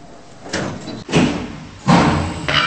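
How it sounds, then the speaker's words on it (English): A Schindler 5500 elevator door in a Roblox game slides shut with a couple of loud, close mechanical thumps and a rumbling slide between them, heard alone without talking. "Door closing."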